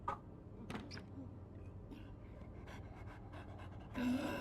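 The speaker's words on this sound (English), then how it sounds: "I heard you panting." A creature in a horror video game pants steadily like a dog, rapid breathy puffs running throughout at moderate volume with faint game noises around it.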